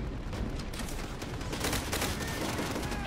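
Call of Duty: World at War gunfire crackles without a break in a dense, loud, close fusillade of overlapping rapid shots through the whole short stretch.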